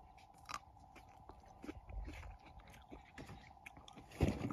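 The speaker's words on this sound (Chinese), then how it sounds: "咬一口，大家听一下这口感啊" A firm, hard-fleshed cherry grown in Gansu is bitten into: a few quiet, crisp crunches and chewing sounds, ending in a sharper, louder bite near the end.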